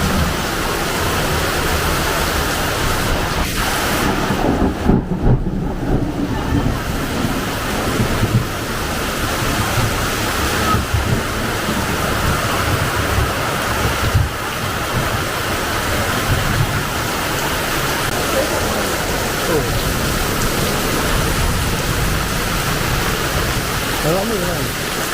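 Heavy rain pours down in a dense, steady roar, loud and close, with brief louder swells and no clear separate thunderclap.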